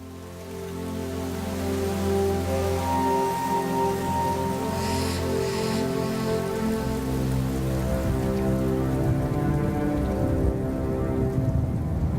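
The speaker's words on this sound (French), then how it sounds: "Avec l'arrivée de la pluie, le Linyanti se transforme en une plaine inondée" Steady rain falls on the Linyanti floodplain with a dense hiss of drops on surfaces, joined by low rumbling tones throughout, no voices.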